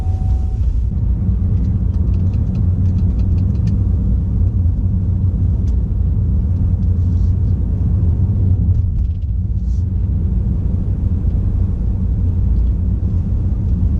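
Steady low road rumble of a car driving, captured on a GoPro Hero 5 Black in an electric vehicle, continuous and fairly loud throughout with no talking.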